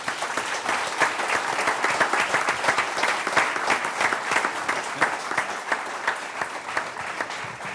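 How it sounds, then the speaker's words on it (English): An audience at a conference on military operations gives its panelists a steady, dense round of applause that stays even and fairly loud from start to finish. "I'll ask you to join me in a round of applause for our panelists"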